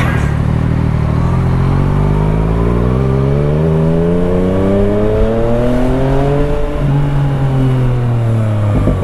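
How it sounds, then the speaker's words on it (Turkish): A Yamaha MT-09 motorcycle engine revs loudly and close up, its pitch climbing steadily through a long throttle pull, dipping briefly, then rising again as a sustained roar with no talk. "Bak bunda az gaz veriyorum, bağırıyor ya."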